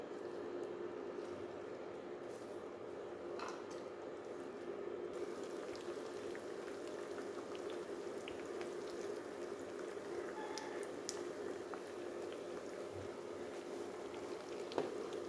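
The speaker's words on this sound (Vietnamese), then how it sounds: "Bây giờ dầu đã nóng rồi, mình cho thịt vô." Pork frying in hot oil, a faint, steady sizzle and bubbling crackle that runs continuously with scattered pops, no voices over it.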